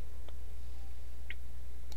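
A computer mouse clicks while selecting an email option: three small, sharp clicks spaced unevenly over a steady low hum, close and faint, no talking.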